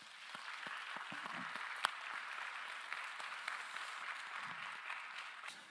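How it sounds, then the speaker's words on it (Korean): A congregation at a Sunday young-adult church worship service applauds to welcome two first-time visitors. The clapping is a steady, dense wash at moderate volume, lasting throughout with no speech over it. "우리 박수로 환영하겠습니다"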